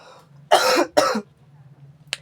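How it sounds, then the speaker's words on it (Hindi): Two close, sharp coughs come one right after the other from a man who is unwell, followed by a brief click in an otherwise quiet room. "थोड़ी तबीयत खराब होने की वजह से खांसी वगैरह होती है"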